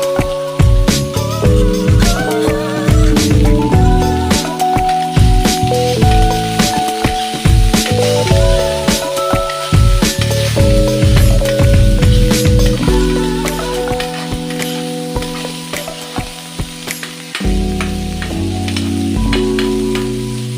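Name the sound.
ridge gourd peel frying and stirred in pan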